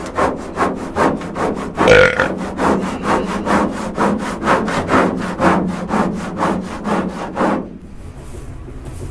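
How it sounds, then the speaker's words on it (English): A scraper rasps back and forth across a surface in rapid regular strokes, about two per second, loud and close, then stops abruptly near the end, leaving quiet. "I wonder if a scraper would be good. I'm gonna try it."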